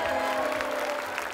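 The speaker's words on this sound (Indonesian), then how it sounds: "Tepuk tangan buat Cindy" Studio audience on a televised dating show claps together, a brief steady burst of applause at moderate level with no talk over it.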